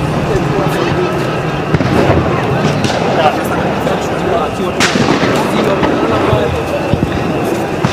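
Gunfire from police during a street protest in Nairobi, Kenya: scattered sharp cracks and pops, some near and some farther off, over a dense crowd din and background commotion, with voices audible throughout.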